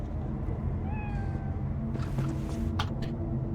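A pet cat named Nibbles in a video game gives a few short, rising meows over a low, steady background hum, close and clear, with no voices.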